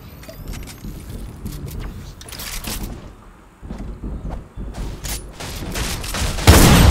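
Gunshots in a video game custom match ring out as scattered sharp cracks and short volleys over background game noise, with a louder burst at the very end.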